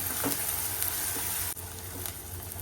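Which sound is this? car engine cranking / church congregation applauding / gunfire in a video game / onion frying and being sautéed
onion frying and being sautéed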